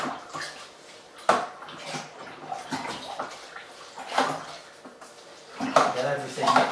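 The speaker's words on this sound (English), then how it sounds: "just give that a good stir to mix everything thoroughly" Winemaking kit ingredients stirred in a fermenter with water, uneven sloshing swirls and knocks of the spoon against the vessel, sharper near the start and end, with a voice talking over parts of it.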